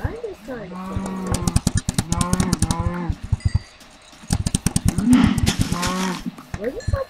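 Cow mooing in the Minecraft video game, with a few short in-game moos heard close up while a person talks over them throughout.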